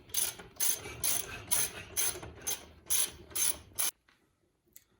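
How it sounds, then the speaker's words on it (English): Ratcheting on a dirt bike fork as the rebuild adjuster is tightened into the tube assembly: about nine quick rhythmic clicking bursts up close, then a stop and near silence with one faint click. "we'll just tighten up the rebuild adjuster into the tube assembly"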